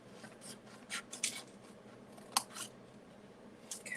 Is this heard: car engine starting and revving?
no